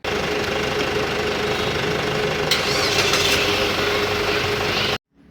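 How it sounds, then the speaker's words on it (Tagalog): A 2019 Xpander's engine running loudly with a rough, knocking idle throughout, then cutting off abruptly near the end. "Ang bilis nating napastart yung sasakyan"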